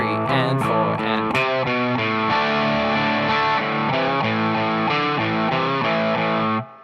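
Distorted electric guitar playing a pre-chorus, loud chunky repeated chords in a steady two-bar rhythm, ending with a sudden cut.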